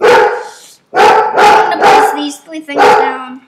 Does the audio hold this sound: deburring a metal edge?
no